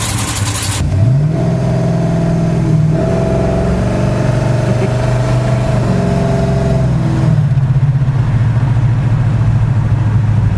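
Engine of a restored 1966 Plymouth Satellite climbing sharply to a loud rev, then holding a steady high-pitched drone for several seconds before settling back to a throaty idle, heard close with no talk.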